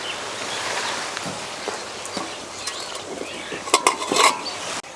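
A metal steamer plate holding chhanar bhapa sweets is gripped and lifted down, soft scraping and rustling building to a few sharp metallic clinks and clatters near the end.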